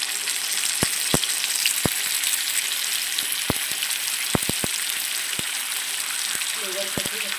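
Chopped tomatoes sizzle and fry in a pan with a steady hiss, broken by scattered sharp clicks and pops from the pan.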